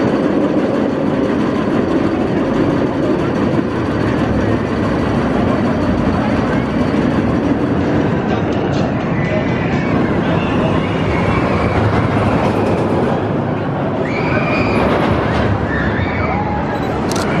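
The sooperdooperLooper roller coaster at Hersheypark rumbling along its track, a continuous loud clattering roar of cars on rails with faint voices in the background.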